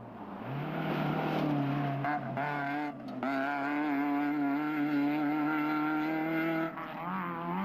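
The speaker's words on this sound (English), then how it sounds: "The Production Vehicle Championship frontrunners were a comfortable 5 minutes ahead of a second Hilux in the hands of Boshoff's brother Jean" A Toyota Hilux racing in an off-road rally revs hard, its engine note holding a strong steady drone with a few brief dips, loud and close.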